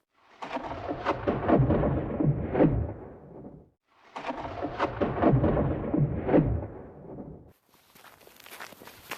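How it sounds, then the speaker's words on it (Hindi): Deep thunder rumbles through a frightening night storm in a forest, two long rolling peals of about three and a half seconds each separated by a short pause, loud and close, followed by a fainter hiss like rain. "बिजली चमक रही थी। बादल भयानक तरीके से गरज"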